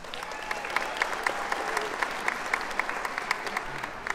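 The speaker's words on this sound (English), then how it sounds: "another round of applause for them" Audience applause in the arena at the Gathering of Nations Powwow in Albuquerque, a dense, steady crowd clapping with a few sharper claps standing out, continuous from start to end.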